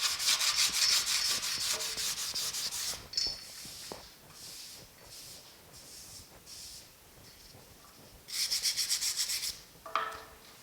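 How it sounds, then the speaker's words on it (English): Sanding body filler on the splash guard of a 1950 Chevy truck: two bursts of brisk, close rubbing strokes, separated by quieter scraping and handling, with no talk. "let's do a little more sanding and see if this comes out"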